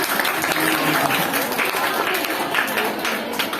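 Audience applause at a national Bible study gathering, a dense steady clapping wash filling the whole stretch at close range, with murmuring voices mixed in underneath.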